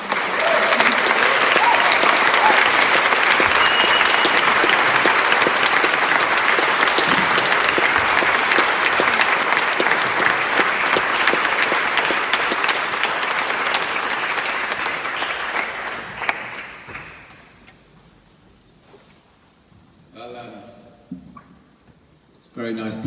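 A crowd applauds continuously and loudly to welcome a speaker at a gathering in Brussels in August 2019, fading out after about sixteen seconds, followed by brief speech near the end.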